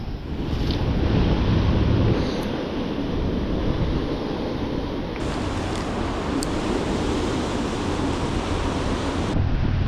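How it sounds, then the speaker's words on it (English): High, fast-flowing river water rushes in a steady, loud roar close by. Wind buffets the microphone and no one speaks. "here's a representation of how high and fast the water is"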